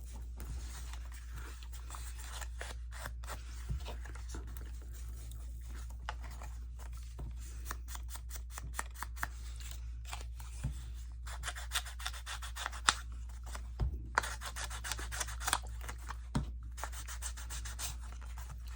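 Paper strips being distressed for craft clusters, a steady dry rubbing and scraping across the paper with short scratchy bursts, close and fairly quiet, with no talk.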